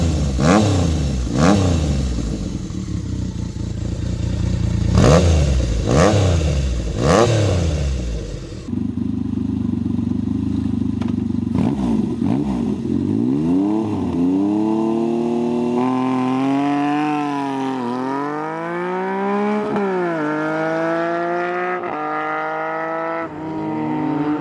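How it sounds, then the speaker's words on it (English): A classic Yamaha XS750 motorcycle engine revs in sharp repeated blips, then settles into a rough idle and climbs through several rising and falling throttle sweeps, loud and close. "XS750, a classic motorcycle with a timeless charm"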